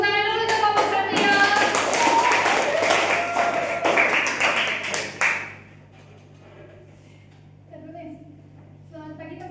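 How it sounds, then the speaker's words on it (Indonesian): A classroom group claps together for a presenting student team, a dense burst of hand claps lasting about five seconds before stopping abruptly, followed by a few quiet voices in the near-silent room. "Tepuk tangan dulu untuk kelompok Satrio."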